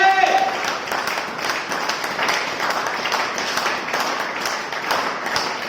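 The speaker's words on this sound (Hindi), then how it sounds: "एक बार दिग्गज भरी हुई ताली बजाइए, जोरदार तालियां बजाइए" A seminar crowd at a leadership program in Ramnagar, Uttarakhand, breaks into loud, sustained applause. A dense, steady wash of many hands clapping fills the room the whole way through.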